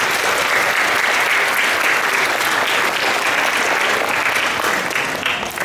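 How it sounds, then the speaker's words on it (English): Loud, sustained applause from the crowd at a Grade 5 promotion ceremony, a thick, even roar of many hands clapping that carries without pause, tapering slightly at the end. "So you can give yourself a round of applause as well."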